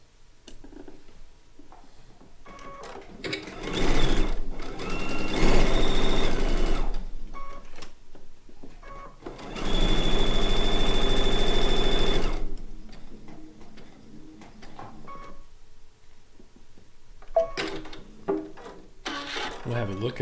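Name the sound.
sewing machine sewing pin cushion seam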